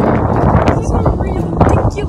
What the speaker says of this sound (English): It's so cold outside and windy.